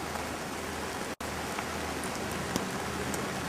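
Artificial rain from film-set rain machines pours steadily, a dense, even hiss of water on surfaces with a few sharper droplet taps and one brief dropout.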